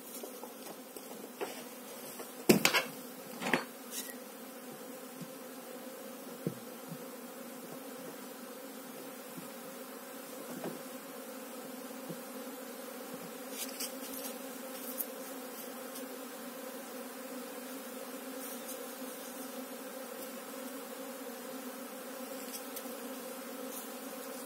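Local honeybees at an opened hive give off a steady, dense hum that continues throughout, with a few soft knocks and rustles of hive handling near the start.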